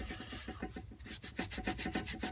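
Wet wipes rubbed back and forth over an antique machinist's vise freshly cleaned of dust from wire wheeling and sanding, a close, steady series of short scrubbing strokes with no talk.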